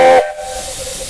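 A short, loud whistle blast from a steam locomotive on the Romney, Hythe and Dymchurch Railway, followed by a steady rush of hissing steam.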